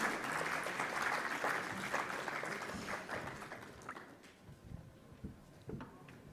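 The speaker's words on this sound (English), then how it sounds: "Can we have a louder applause?" An audience at a sugar-sector council meeting applauds the panelists. The clapping is loud and full at first, then thins and fades to scattered individual claps near the end.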